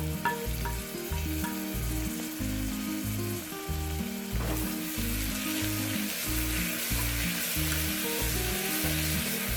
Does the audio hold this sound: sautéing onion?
yes